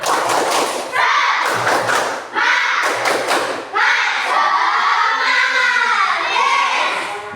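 Classroom of fifth-grade children doing a rhythmic group clap, loud bursts of claps in clear beats, with children's voices shouting and chanting between and over the claps.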